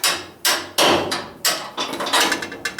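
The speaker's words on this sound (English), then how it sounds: "use this punch and drive them out. Drive that front bolt out." A hammer drives a punch against a rear leaf spring bolt during a rear end swap on a '67 9-inch axle, producing eight loud, close metallic blows in a steady rhythm, each ringing briefly before the next.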